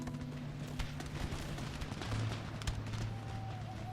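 Musket volleys and cannon fire in Empire: Total War battle, a dense rumbling barrage of distant shots and booms with scattered sharper cracks, continuous over a low droning background.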